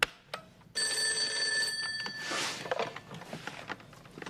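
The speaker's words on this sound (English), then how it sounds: "I have to give Gloria a buzz just to make sure she's still coming to practice" A telephone rings on an outgoing call: one steady electronic ring burst of about a second and a half, heard close and clear over faint room noise.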